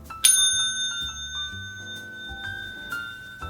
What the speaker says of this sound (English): another silver item here we've got is an old bell